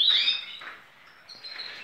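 Male canary chirping near the nest, bright high twittering notes in quick bursts, close and clear against a quiet background.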